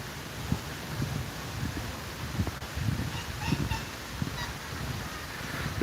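An Australian white ibis calls in city botanic gardens in Brisbane, giving rough repeated honking grunts at a moderate distance over steady outdoor wind and ambient noise.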